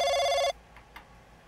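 A telephone rings with a bright electronic trill for half a second, then cuts off, leaving near silence with a couple of soft clicks, as if picked up.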